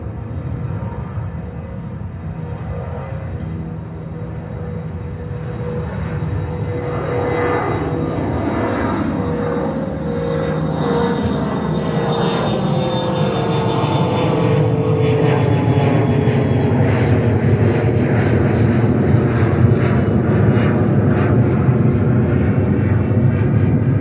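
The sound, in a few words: Iberia airliner taking off from JFK runway 13 right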